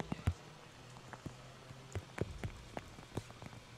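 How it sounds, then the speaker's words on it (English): Light rain patters on a surface at a Formula Drift Japan qualifying round at Okayama, a faint, steady scatter of drops with occasional sharper taps under low background noise. "are you getting a sound of rain coming through your headset or not?"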